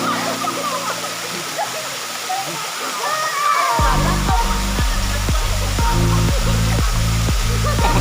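Maruyan waterfall in Bangka pours in a steady broadband roar while people bathe and splash in the water, with a loud rhythmic mechanical hum joining partway through.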